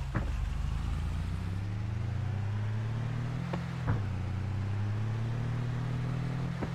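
A tractor-like vehicle engine in the farming game Landwirtschafts-Simulator 22 drones steadily at speed, with pitch shifting slightly as it accelerates, plus a couple of faint clunks; no talking.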